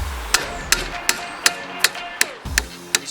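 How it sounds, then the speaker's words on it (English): Ball hammer striking a steel roof rack bracket for a vintage Volkswagen Bug or Bus, shaping it into a curve by hand: seven sharp metallic blows at a steady rhythm, close and loud, with no talk. "Just got that ball hammer, he's using the flat side to get a nice curvature in it"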